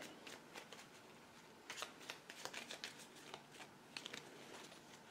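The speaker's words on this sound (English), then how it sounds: "We will shuffle the deck." A deck of cards is shuffled during an Eldritch Horror board game, with soft riffling bursts that come in quick clusters, fairly quiet and close, with no talking.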